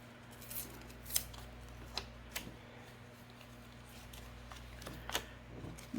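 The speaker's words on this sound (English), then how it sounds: "I'm first going to cut my piece to the size that I want it" Scissors cut a piece of paper to size for a DIY envelope book, giving a few quiet snips spaced irregularly over a low steady background hum, with no talking.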